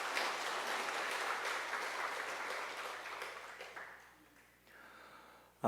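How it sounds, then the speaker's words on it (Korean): Steady crowd applause from many hands fills the room, holding evenly before tapering off near the end. "박수 한번 해주시기 바랍니다"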